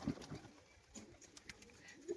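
A big red duma pigeon pair coos faintly in short bursts at the start and end, quiet and somewhat distant amid low background noise.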